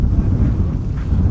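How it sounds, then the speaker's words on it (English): Strong wind in Pakistan's Hunza Valley buffets the microphone in a steady low roar, with nothing else standing out. "And it's super windy."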